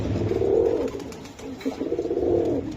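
Racing pigeons held for sale coo in two long, throaty rolling phrases close by, with a short pause between them, and no talking over the calls.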